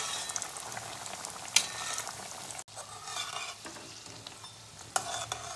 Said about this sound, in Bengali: এটাও ভাজা হতে থাকো।